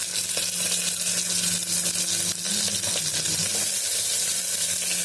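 Three large red tomatoes, cut in halves, go into a hot pan with kasuri methi and fry with a loud, steady sizzle and crackle that continues throughout, along with some stirring.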